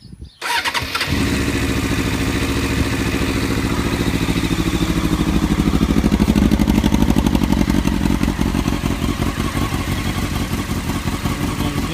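A Honda CBR600F4i motorcycle engine cranks, fires up and settles into a steady, loud idle right after an oil change, the close mechanical rumble running on evenly with no talk.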